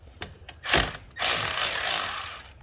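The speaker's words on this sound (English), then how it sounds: "we're gonna go ahead and take off the negative negative terminal, which is a 10 millimeter bolt" A 10 mm bolt on the negative battery terminal of a 2014 Jeep Cherokee is worked loose with a hand tool: a few sharp ticks, then two close bursts of quick ratcheting clicks, with no talk.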